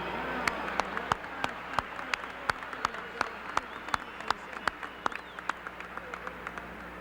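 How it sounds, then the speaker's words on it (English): Baseball fans at a Minnesota Twins event applaud in a steady wash of crowd clapping, with distinct sharp individual claps standing out close by throughout. "so give yourselves a round of applause"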